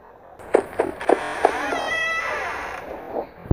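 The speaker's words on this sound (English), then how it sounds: "That's definitely breathing." Breathing at the door in the horror game Five Nights at Freddy's 4, a series of short rasping pulses followed by a longer wheezing, whining exhale, fairly loud and close.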